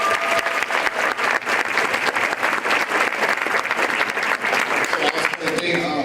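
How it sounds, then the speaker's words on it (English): Applause for Jermayne at a Rochester Black Men Achieve awards event, a dense crowd clapping steadily and loudly for about six seconds, with a few voices mixed into the ovation. "Let's give Jermayne a round of applause"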